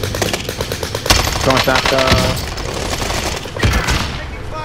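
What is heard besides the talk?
gunfire from the XM4 in a video game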